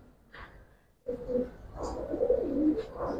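Silver Giribaz pigeons coo at a market stall, giving soft, rolling throaty coos at close range after a brief quieter opening, with no voices over them.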